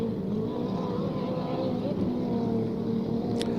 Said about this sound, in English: You can hear that little small boat with the yellow trim